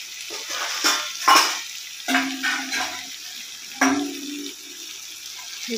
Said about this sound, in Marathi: ह्याच्यात थोडं पाणी ॲड करू आपण.